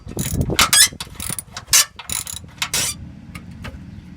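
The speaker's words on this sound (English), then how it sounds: "Removing this last bolt here" Ratchet wrench clicking in short bursts while backing out a bolt on a GM vehicle's spare tire carrier mechanism, close and fairly loud with brief pauses between pulls.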